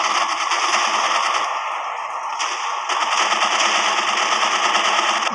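Video game gunfire rattles in rapid, continuous machine-gun bursts, loud and close, with a short pause midway before the firing resumes, no voices over it.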